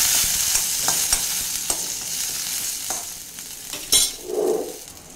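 Green chillies, curry leaves and dried red chillies crackle and sizzle in hot oil as a spoon stirs and taps the pan, a close, steady frying hiss with occasional metallic clinks.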